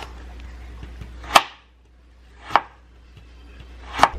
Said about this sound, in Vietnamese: Cắt ra thành cái cọng nhỏ nhỏ nhỏ đó các bạn.